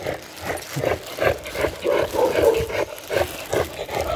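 A pit bull on a street walk, wearing a muzzle for the first time, gives repeated short muffled barks and yips at a close distance, in an uneven rhythm over outdoor background noise.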